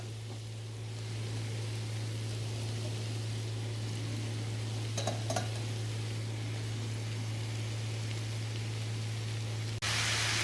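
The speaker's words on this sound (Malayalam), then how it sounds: "ഹൈ ഫ്ലെയിമിൽ ഞാനിതൊന്ന് വഴറ്റുവാണ്" Pumpkin and potato, salted, sauté in a pan on high flame with a steady close hiss and sizzle over a low hum, broken by a brief clatter of stirring midway.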